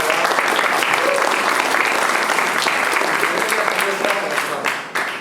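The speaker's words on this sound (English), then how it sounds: "Give a round of applause." A crowd applauds at a live debate, dense and loud from the start, then tapering off over the last second as the clapping fades.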